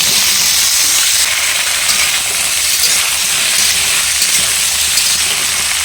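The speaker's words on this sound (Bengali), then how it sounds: "পেঁয়াজটা হালকা এরকম ভাজা ভাজা মতো হয়ে আসলেই কেটে ধুয়ে রাখা পিঁপে আর আলুটা দিয়ে দেবো।" Papaya and potato pieces hit hot oil with softened chopped onion and spices for a village-style shukto, giving a loud, steady sizzle and hiss that carries on throughout, with no voices.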